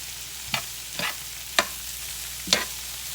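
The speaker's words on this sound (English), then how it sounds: "Just going to mix all that together." Smoked paprika and other spices mixed together in a hot pan, with a soft sizzle under four distinct scraping strokes of a spoon spaced about half a second to a second apart.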